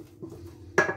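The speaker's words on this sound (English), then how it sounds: "Give it a good stir." A spoon clinks and scrapes against a bowl while a chocolate coffee cream mixture is stirred, a couple of soft taps followed by one brighter ringing clink, close and quiet.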